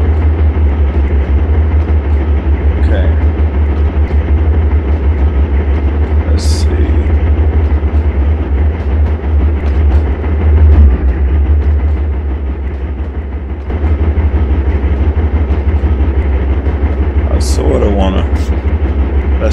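A train in surveyor mode on the Santa Fe Needles district rumbles continuously with a loud, steady low drone and a few faint high squeals.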